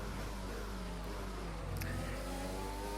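A Formula 1 car engine in the racing video game F1 2020 holds a steady high whine that climbs slightly in pitch as it accelerates, loud and continuous throughout.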